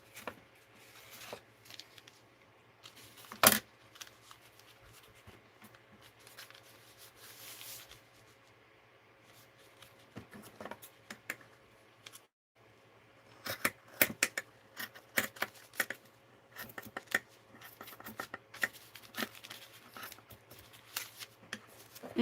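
Scissors cutting material, sporadic snips and rustling shuffles at close range, quiet at first and then busier with clustered crisp cuts and handling noises, alone without talk.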